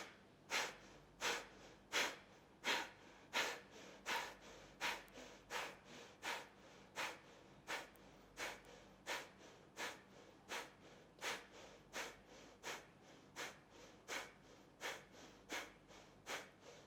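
Deep, rhythmic breaths in a core workout flow, forceful nasal exhales repeating roughly every 0.7 seconds, close and steady over nearly seventeen seconds.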